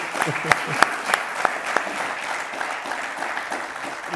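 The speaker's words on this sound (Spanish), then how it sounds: "Quiero eh, que den ustedes un fuerte aplauso a estos señores" An audience at a cybersecurity panel event applauds the panel speakers with a sustained round of clapping. A few sharp, louder claps stand out near the front over the steady crowd applause, which holds at an even level throughout.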